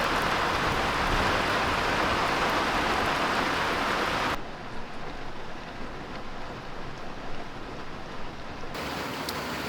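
Rain falling steadily outside on an off-grid homestead, a constant close hiss that drops to a softer, more muffled wash partway through.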